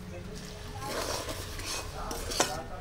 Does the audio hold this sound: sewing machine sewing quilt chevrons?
no